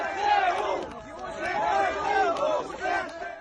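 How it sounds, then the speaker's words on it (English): Crowd in a city square in Kherson chanting ZSU for the Ukrainian Armed Forces, a rhythmic group chant of loud voices repeating in waves, with a few sharp shouts and claps over it. "The chant, ZSU, Ukrainian Armed Forces, over and over again."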